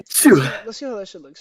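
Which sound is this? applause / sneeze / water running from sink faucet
sneeze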